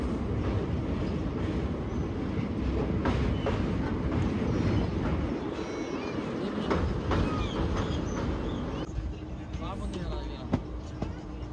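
The 17024 Tungabhadra Express rolls slowly between Kurnool and Secunderabad, a steady low rumble of wheels and carriage noise heard from inside the general coach, with a person talking over it.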